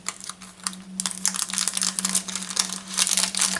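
A small plastic toy wrapper is opened by hand, a close, busy run of crinkling and tearing over a steady faint hum, with no talk.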